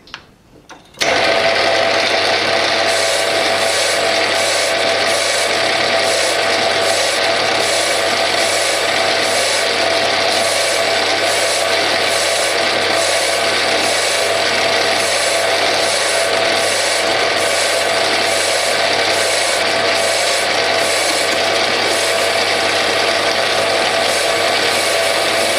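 A Bernardo P 600 G lathe turning a titanium Grade 2 ring, a loud continuous mechanical whir and hum with fine rhythmic ticking that starts abruptly and runs steadily for about twenty-five seconds.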